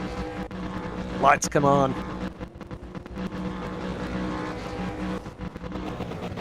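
Race car engines revving at the start of a Super2 V8s sim racing video game, a rising rev burst then a continuous engine drone under a commentator's voice.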